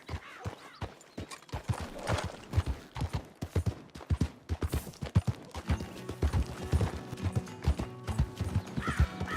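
Horse hooves clip-clop in the Red Dead video game, a steady rhythmic trot of hard knocking steps close by, with occasional snorts and a soft whinny over faint background music.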